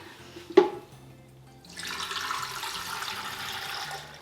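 Filtered water pours into the tank of a Casabrews Ultra espresso maker, a soft steady trickle and splash that starts after a brief knock and runs continuously to the end, close and moderately quiet.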